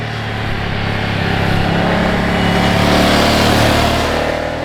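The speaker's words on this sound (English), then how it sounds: "Nothing quite sounds like a Ducati 90-degree V-twin." A 2026 Ducati Monster's 90-degree V-twin engine runs with a steady, throaty mechanical drone, holding a constant loud rumble throughout without talk.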